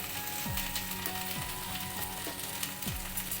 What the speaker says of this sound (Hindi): अब हम इसमें हरी मिर्च और लहसुन भी भून लेंगे।